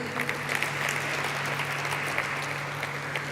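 A crowd at a stock exchange listing ceremony for Afcons Infrastructure claps in a sustained burst of applause. The dense clapping carries at a moderate level throughout with a few sharper claps standing out.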